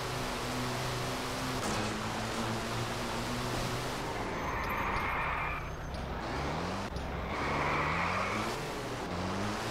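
A car drives in a kids' racing video game, giving a continuous engine drone with rising and falling whines over steady rumbling noise, loud and without talk.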